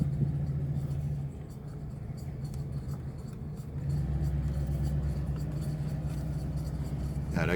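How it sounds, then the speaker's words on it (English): Loose hubcaps click in a fast, steady rhythm on a 1984 Oldsmobile Delta 88 Royale Brougham as it drives, under a low engine and road rumble heard from inside the car. "the clicking sound that is from the hubcaps that are loose"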